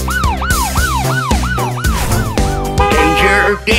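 A cartoon police car siren in a children's nursery rhyme song wails in a fast repeating up-and-down sweep, loud and close, over backing music, with no voices.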